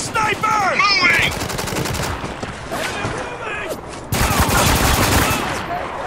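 Heavy gunfire in the video game Spec Ops The Line, loud sustained automatic bursts and overlapping shots rattling almost without pause, with a brief lull before another intense volley near the end.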